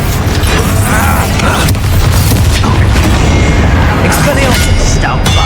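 Confringo fire-blast spell from Hogwarts Legacy gameplay erupts in loud, booming explosive bursts over dense, continuous game noise and rumble, with a voice calling out spells nearby.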